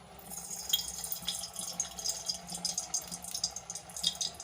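Cooking oil, about half a cup, poured into a pan for frying cumin, giving a steady close liquid pour with a soft splashy hiss and small dripping spatters throughout.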